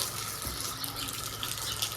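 Water gushing steadily from an electric water pump motor at a home courtyard, a continuous hissing splash with a low motor hum underneath, fairly close and even throughout.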